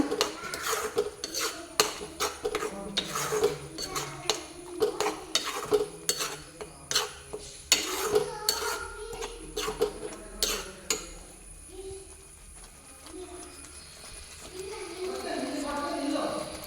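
Ingredients for a chutney made with thonde kai fry in a pan, with repeated close scraping and clinks of a utensil stirring in an irregular rhythm over a low sizzle, then the clatter eases and a steady frying hiss remains.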